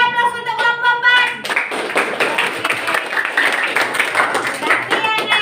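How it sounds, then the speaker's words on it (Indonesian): Students in a classroom clap for a student group, a lively stretch of quick, uneven hand claps. A brief tonal sound plays before the clapping begins, and the clapping stays fairly close and loud with some voices mixed in. "Beri aplaus untuk kelompok"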